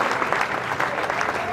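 A crowd claps hands at a devotional Kanwar Yatra gathering, dense continuous applause filling the short moment, loud and close.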